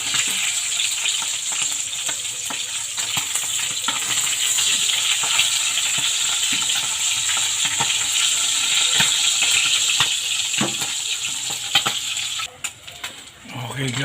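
Galunggong fish frying in a pan on medium heat after being flipped, with continuous close sizzling and crackling and occasional pops and clicks over a long stretch, the sound dipping briefly near the end.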